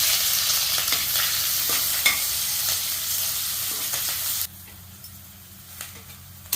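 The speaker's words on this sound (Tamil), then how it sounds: "நம்ம வெங்காயத்தையும் பச்சை மிளகாவையும் போட்டுக்கலாம்" Onions and green chillies sizzle in hot oil seasoned with cinnamon and cloves for mint rice, a steady loud frying hiss with occasional stirring scrapes that drops abruptly to a quieter simmer near the end.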